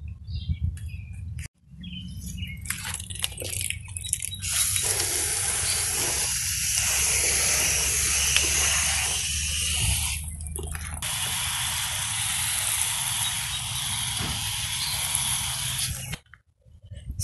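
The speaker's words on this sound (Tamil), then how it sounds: "எல்லாத்துக்கும் தண்ணி ஊற்றணும், நான் தண்ணி ஊற்றிட்டு" Water poured or sprayed over home garden plants, a steady close hiss and splash that runs almost unbroken for most of the stretch, with a few short breaks and some faint chirps behind it.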